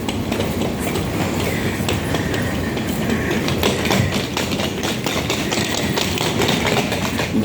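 Train cars rolling along rails with a steady rumble and faint rhythmic clacks, carried as continuous broadband noise throughout with no talk.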